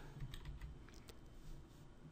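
Soft keystrokes tap on a computer keyboard in a short quiet flurry, faint and close, with no talk.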